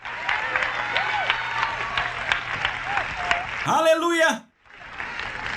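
A congregation claps during a sermon while a preacher's voice rises over the noise. The applause is moderate and continuous, then a loud shouted exclamation cuts through before a brief hush and renewed clapping.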